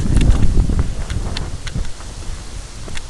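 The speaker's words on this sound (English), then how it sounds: "I think that's just probably a gust." Outdoor wind gusting across the microphone with broadband rumble and rustle, strongest in the first half then easing, steady and close throughout with no voices.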